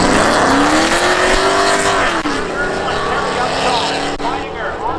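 Drag race at Seekonk Speedway: a 1994 Pontiac Trans Am and a 1997 Pontiac Firebird roar at full throttle, a loud sustained engine drone rising and shifting pitch, with an announcer talking over it.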